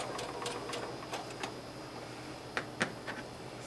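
A domestic sewing machine runs quietly beneath a steady hum, stitching forward, pausing and reversing, with a few faint ticks and two sharper clicks near the end; fairly distant and low in level, no voices.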